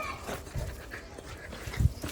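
A dog pants softly in short breaths with a faint whimper, close by, amid light background noise.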